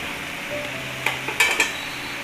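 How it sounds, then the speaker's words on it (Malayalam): Vegetable thoran stirred in a pan, a low continuous hiss of cooking with a few brief spatula scrapes and taps near the middle, close by and without speech. "നമ്മൾ തോരനൊന്ന് ഇളക്കി കൊടുക്കാം"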